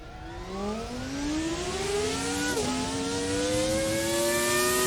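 Simulated FR X-90 race car in a racing video game accelerating hard from a standing start on a hillclimb course, its engine note climbing steadily through the rev range with a brief dip at a gear change, loud and close throughout.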